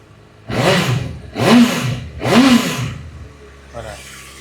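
Honda CBR1000RR litre-class motorcycle engine revved three times in quick succession, each blip rising and falling loudly close by, then settling to a low idle with a faint fourth rise.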